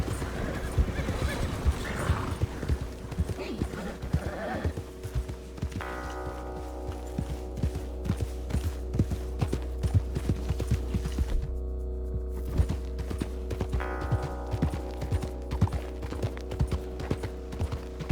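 Horse galloping in Red Dead Redemption 2, a fast steady hoofbeat rhythm with a neigh early on and faint mechanical clinks in the background, close and moderately loud, with no speech.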